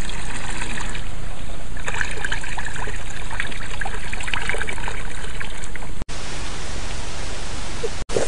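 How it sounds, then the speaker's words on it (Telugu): Herbal decoction being poured into 200 litres of water and stirred: a continuous loud, close rush of splashing, trickling liquid that fills the whole stretch, with two brief dropouts near the end and no talk. "ఇప్పుడు పోసి బాగా కలుపుకోవాలి."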